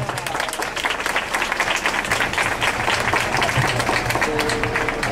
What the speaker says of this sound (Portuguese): Uma bela salva de palmas.